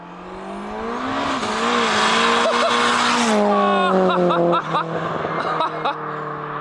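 A tuned, unregistered 550-horsepower Peugeot 306 screams past at high speed, engine note rising loud and sustained before dropping with sharp gear-change bursts and crackles as it moves away.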